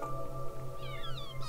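A white kitten meowing during a calm children's bedtime story, a few thin, high, rising mews over a steady soft drone with a gently pulsing low tone, quiet and close.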